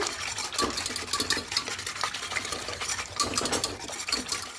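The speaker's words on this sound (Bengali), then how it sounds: "একটু জল দেবো জল দেবে হ্যান্ডেলকে খুব ভালো করে ঘেটে নেব" A ladle handle stirs and mashes boiled dal in a pot, giving a steady run of close scraping, clinking strokes with irregular rhythm throughout, no talking.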